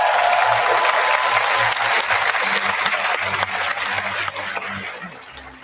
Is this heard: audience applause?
yes